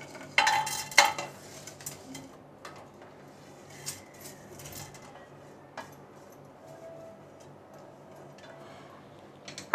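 Whole spices stirred in hot ghee in a pan for biryani rice, a quiet background with scattered metallic clinks and taps of a spoon against the pan, a few sharper knocks early, and faint sizzling.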